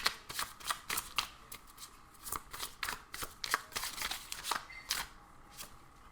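Tarot cards shuffled by hand nearby, a soft run of quick papery riffles and flicks in an irregular rhythm, fairly quiet with no talking.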